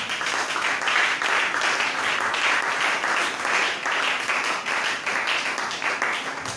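A church congregation claps and applauds in a steady, dense wave of hand claps filling the room, with faint voices mixed in.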